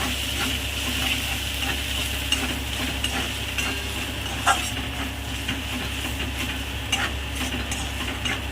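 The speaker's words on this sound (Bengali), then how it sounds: "ভালো করে নাড়াচাড়া করে নিলাম।" Egg poppy seed curry with a little sugar and Kashmiri chilli is stirred in a pan, with a steady sizzle and repeated scraping strokes of the spoon, close and fairly loud throughout.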